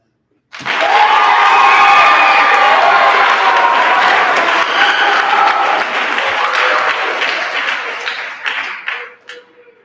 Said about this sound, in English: let's give a loud applause to Ms. Lambert